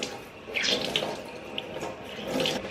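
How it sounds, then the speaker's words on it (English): Tap water running into a sink while a makeup sponge is rinsed and squeezed, a soft continuous splashing flow with small bursts, fairly quiet and close. "Then I wash the sponge. And you see the dirty water coming out."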